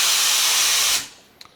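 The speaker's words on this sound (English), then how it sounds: "But you can see that it's steaming." Loud, steady hiss from the steam wand of a Wendougee Lita dual-boiler espresso machine. It cuts off abruptly after about a second, leaving a faint click and quiet room noise.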